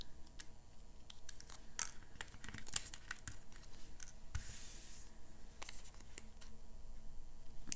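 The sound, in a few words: scissors cutting antennas off paper ladybug punches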